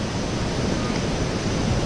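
Haew Narok waterfall in Khao Yai National Park, Thailand, roars as a steady, dense wash of falling water, loud and unbroken throughout.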